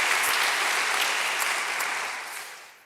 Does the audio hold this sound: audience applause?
yes